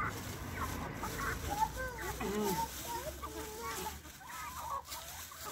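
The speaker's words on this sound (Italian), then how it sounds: "Hanno molta fame le galline." Hungry hens in Rawandiz, Kurdistan, Iraq, cluck steadily in a busy chorus of overlapping calls over a constant outdoor hiss, fading slightly toward the end.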